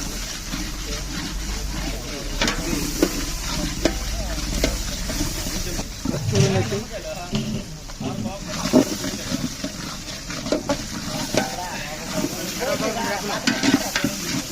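Tomatoes and ginger-garlic paste are stirred while frying in a pot for chicken biryani gravy, a steady sizzle with irregular scraping stir strokes and a voice talking throughout.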